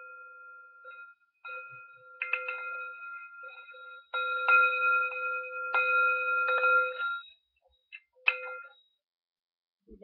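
A brass Tibetan singing bowl is struck several times, each strike ringing out with clear sustained metallic tones that overlap and then fade, with short silent gaps between strikes.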